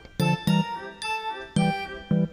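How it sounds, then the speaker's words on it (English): A telephone rings with bright, electronic chime bursts, four sharp rings in a quick, uneven pattern, loud and clear with nothing else around them. "Ring, ring."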